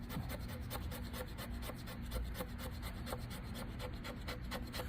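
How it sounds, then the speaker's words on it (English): A knife blade scrapes fatwood into fine shavings, a steady run of rapid, rasping strokes repeating close up at even tempo throughout, with no voices. "take yourself some fat wood and get it all scraped up"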